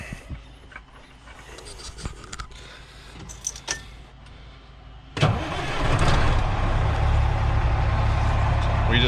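A 1994 Freightliner truck engine cranks and fires at about five seconds, then settles into a loud, steady diesel idle after a few quieter knocks and rustles.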